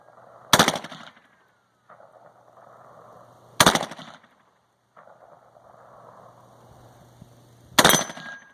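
Three loud, sharp AR-15 rifle shots at an outdoor shooting range, spaced a few seconds apart with quiet ringing gaps between them and no talk over them.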